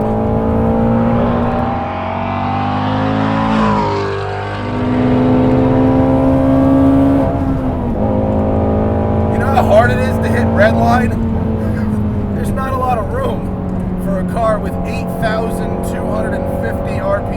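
A Shelby GT350R's V8 engine revs and drones loudly and close, the pitch sweeping up and down through the gears, while someone talks over it.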